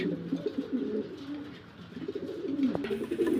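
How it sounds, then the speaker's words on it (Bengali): Pigeons kept for sale coo nearby in soft, rolling low phrases that rise and fall, with a couple of overlapping birds and a faint click near the end. "কোয়ালিটিফুল কবুতর কয়টা ভিডিওতে দেখতে পারতেছেন"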